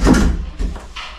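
A main house door being fitted into its doorway gives a loud wooden thud, then lighter knocks and bumps as the door is pushed and settled into the frame, close and up front.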